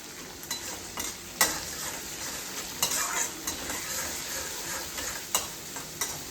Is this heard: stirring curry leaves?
yes